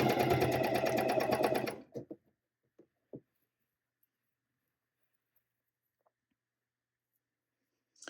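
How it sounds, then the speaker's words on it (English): Sewing machine stitching fold over elastic binding onto knit fabric, a dense steady run of needle strokes for under two seconds, then stopping, followed by a few faint clicks and handling sounds. "now I'm just going to stitch right over that previous line where I was stitching before"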